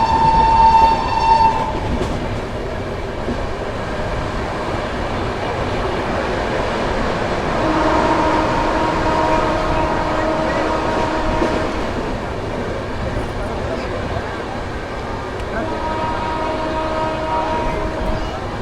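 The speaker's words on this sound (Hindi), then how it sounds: "तो हम लोगों की ट्रेन निकल जाती है जालंधर रेलवे स्टेशन से" A train pulls out of Jalandhar railway station. A horn toots at the start, then the rumble and rattle of the coaches builds, with faint horn calls later and some distant voices in the background.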